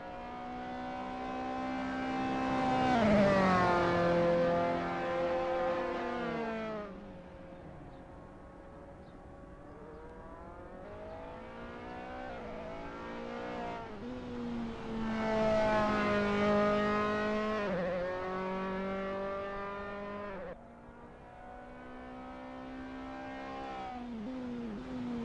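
Dallara F317 race cars run at Tor Poznań in Assetto Corsa, high-pitched engine whines rising and falling through gear changes as the cars pass close by, repeated over a sustained stretch without talk.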